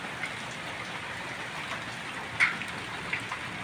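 Falling hail patters steadily as a fine, close rain-like hiss, with a few sharper individual impacts standing out near the end; no one speaks.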